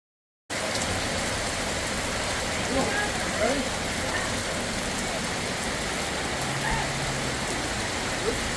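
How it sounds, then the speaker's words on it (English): Steady, dense rain pours down without letup on a hiking trail, a broad hiss filling the whole stretch after a brief silent start, with a faint low rumble underneath. "Got just blasted by the rain."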